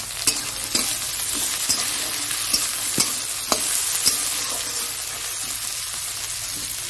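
Tomatoes and chilies sizzle loudly in oil in a frying pan, a dense continuous hiss broken by sharp spatters and pops at a fairly regular pace, close up with no talking.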